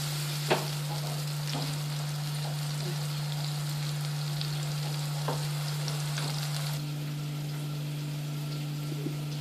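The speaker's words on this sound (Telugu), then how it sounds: "బ్రౌన్ కలర్ వచ్చే వరకు ఫ్రై చేసుకోవాలి" Onions fry in a pan until brown with a steady close sizzle, a few sharp stirring clinks, and a constant low hum beneath.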